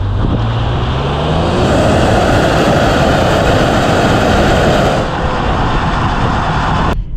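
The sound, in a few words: Lincoln Aviator Grand Touring hybrid SUV accelerating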